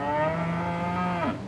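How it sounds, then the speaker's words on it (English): A single long, low moo from cattle on a Kansas farm, a sustained bellow that holds steady before dropping in pitch at the end, heard close and clear. "There's cattle and horses"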